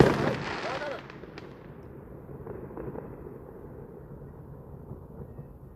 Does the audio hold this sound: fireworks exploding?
yes